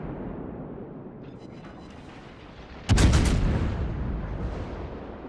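Warship artillery in World of Warships: a steady low engine and sea rumble, then one sudden loud cannon salvo with a booming blast and a long fading roll.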